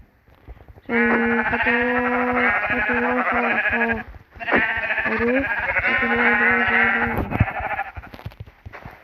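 Sheep in the Minecraft video game bleat in long, loud, layered calls, two sustained stretches of overlapping synthetic baas separated by a brief gap, with soft clicking underneath.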